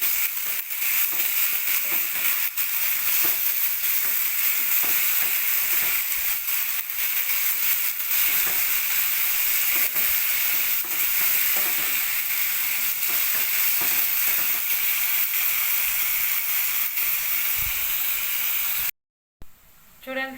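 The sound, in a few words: onions and ginger garlic paste frying in a pan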